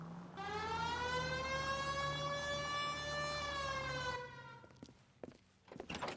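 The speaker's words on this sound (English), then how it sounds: "Hit the siren." A loud, steady wailing police car siren in the video game L.A. Noire holds a sustained tone for about four seconds, then cuts off, followed by a few thumps and clunks.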